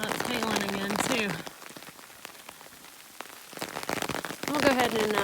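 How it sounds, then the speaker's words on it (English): Rain and hail pelting down in a Washington outdoor scene of a video game, a patchy hiss of drops with a quiet lull in the middle, while someone talks over parts of it. "Oh, it's hailing again too."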